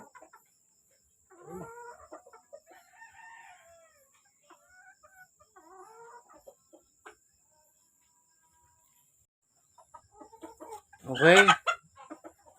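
Golden Monkey x Allen Roundhead gamefowl roosters cluck softly and intermittently nearby, then one lets out a loud crow. A voice briefly speaks in between.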